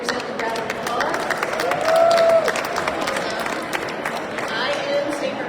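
Crowd of advocates at a state Capitol environmental lobby day in Harrisburg, applauding and cheering loudly with chatter mixed in, swelling near the middle and holding steady throughout.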